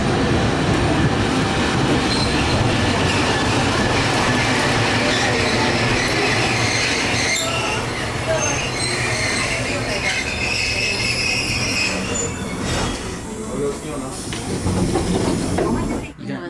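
A train in Japan rumbles along the rails with a loud, steady roar and hiss, heard from on board, with faint voices beneath and a squeal toward the end.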